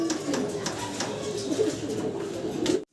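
A large pair of pigeons coos steadily, with low repeated calls over continuous close background noise, ending abruptly in silence.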